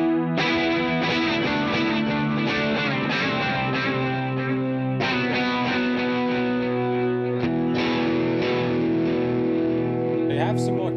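Electric guitar run through a CTC Sidekick Jr. pedal on its tape echo setting, loud sustained distorted chords with swirling repeats, played alone throughout.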